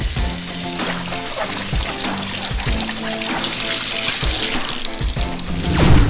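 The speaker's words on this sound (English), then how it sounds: "Another option, wash them in the sink." A sink tap runs steadily while goalkeeper gloves are washed under it, with splashing, trickling and sloshing that swells near the end, close and loud with no speech.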